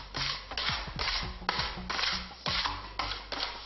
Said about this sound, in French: La troisième étape consiste à poncer davantage les veines apparentes